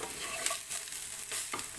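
Cabbage being stirred and tossed in a hot pan during a stir-fry, with soft scraping strokes over a steady sizzle, close and fairly quiet, no talking.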